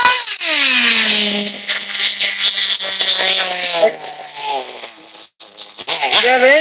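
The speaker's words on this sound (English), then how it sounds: "Yeah, the engine's tired." A tired engine in a Triple B running during a tuning test, revving down and then settling into a steady, loud drone with a rough, uneven tail.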